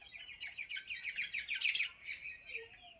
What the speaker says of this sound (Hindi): उसके अंदर ना चिड़िया आ रही हैं।